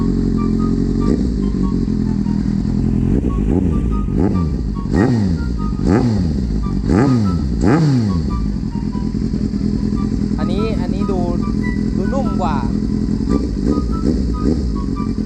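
A Kawasaki Z800 motorcycle with an aftermarket exhaust revs loudly and close, a series of sharp throttle blips rising and falling in a steady rhythm, while someone talks over it.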